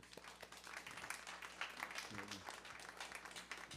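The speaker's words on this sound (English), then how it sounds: "Clap your hand again for Mr. Davis" Applause at a school board meeting, a brief patter of scattered clapping from a small group in a room, with voices murmuring over it.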